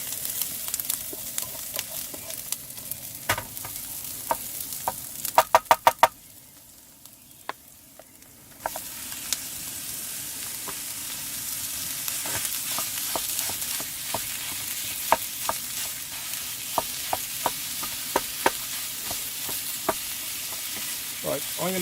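A curry with tomato puree sizzles steadily in a pan on a van camping stove, with sharp scraping clicks of stirring scattered throughout and a brief quieter lull partway through before the frying hiss returns at full strength.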